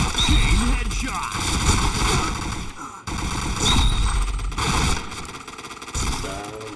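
A mobile shooting game produces dense rapid gunfire and in-game effects, loud and nearly continuous with a brief break midway, while a voice talks over the action.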